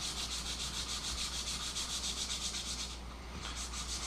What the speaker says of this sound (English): Sand in the shrink wrap.